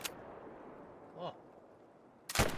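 A single loud gunshot in a Scottish hunting video game rings out near the end, sharp and broadband after a quiet ambient stretch with a brief tonal call midway.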